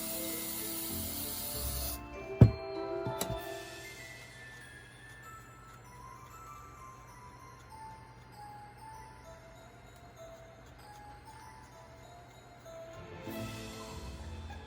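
Hairspray is sprayed onto a styled wig for a Halloween gnome in short hissing bursts near the start and again at the end, with quieter rubbing and handling sounds in between.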